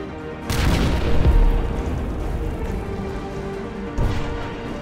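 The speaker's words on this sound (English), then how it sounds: "Crap, I'm gonna put bombs again." Bombs exploding in the video game Rogue Invader: a loud booming blast followed by a sustained rumbling wash, with a second thump near the end, alone without voices.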